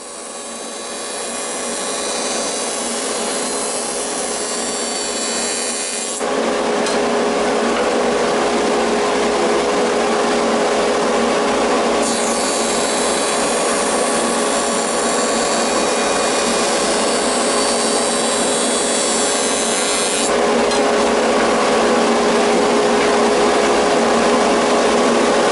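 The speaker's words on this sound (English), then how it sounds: "That's probably why they call this machine a jointer." A woodworking jointer runs with a loud, continuous whirring roar that swells slightly as wood is fed across the cutter head. The machine noise holds steady throughout, with no speech.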